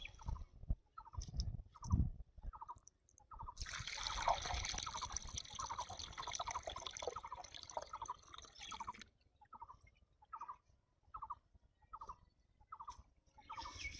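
Water is poured into an engine's radiator that had been run dry: a steady gushing pour for several seconds, flanked by rhythmic dripping and small splashes before and after.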